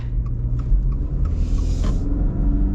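A 2023 Subaru Outback Onyx Edition with a CVT accelerates, heard from inside the cabin as a steady low engine and road rumble with faint clicks and a brief hiss, no talk.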